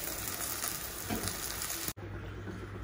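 Steady crackling sizzle of brinjal frying in hot mustard oil, close and continuous, with a brief dropout near the end before the sizzle resumes.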